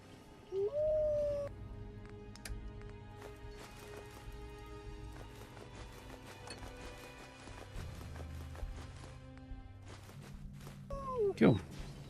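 Dog companion in the video game Fallout 4 gives a howl-like call at the start and again near the end, mixed with game music and ambience, and a person talks over part of it.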